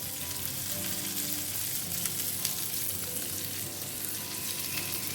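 Goan-style squids stuffed with prawns fry in a pan over a medium flame, giving a steady, dense, close sizzle that carries on without a break and without any voices.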